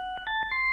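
A mobile phone rings with a short melodic electronic tone, a few steady pitched notes stepping upward, clear and alone.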